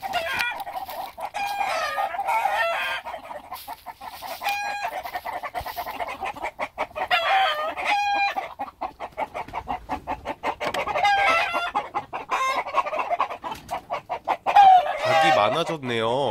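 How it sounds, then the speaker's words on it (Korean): Chickens cluck steadily on a rural farm in early spring, with a rooster crowing at intervals among the hens' chatter, a busy, close, continuous flock sound. "닭들도 겨울을 잘 보냈습니다."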